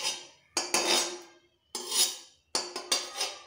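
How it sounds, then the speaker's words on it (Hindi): A spoon scrapes and clinks around a metal kadai, spreading ghee over its surface. Three separate bursts of scraping come in a quiet kitchen, close and fairly loud, with short pauses between them. "अब हम घी को पूरी तरह से फैला लेंगे कढ़ाई में"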